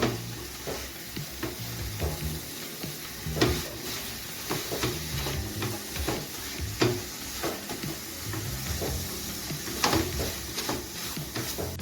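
A spoon scrapes and stirs grated dried coconut with three tablespoons of milk powder in a pan for narkel naru, with a soft continuous sizzle and an irregular clatter of stirring strokes.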